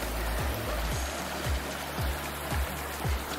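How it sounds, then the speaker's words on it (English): Water flowing steadily beside a tent at a campsite, a close continuous rushing stream with a few soft low thumps. "It's really nice just hearing the water"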